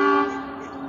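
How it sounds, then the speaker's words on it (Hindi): A train horn toots once, a short bright harmonic blast that rings loud at first and then fades over under a second, heard alone at a rural station in Himachal Pradesh. "अभी वो सामने से ट्रेन आ रही है"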